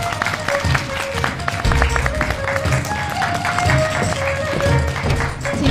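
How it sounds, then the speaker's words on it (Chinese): Audience applause and clapping at a televised Yue opera youth performance show, loud and sustained for several seconds as a performer is welcomed onstage, with a musical accompaniment running underneath. "好，掌声有请。 有请 李晓旭。"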